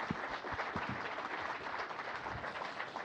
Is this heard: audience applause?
yes